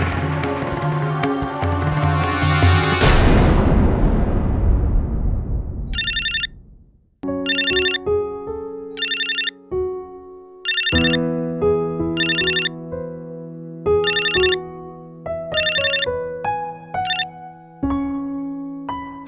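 A telephone ringtone for an incoming call plays loud and close: a bright melodic pattern of electronic tones repeats in short regular bursts, with no talking over it.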